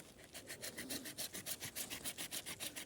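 A Laplander folding hand saw cuts through birch wood outdoors, its strokes rasping in a steady back-and-forth rhythm of about five per second. The sawing is close and fairly loud, with no talking over it.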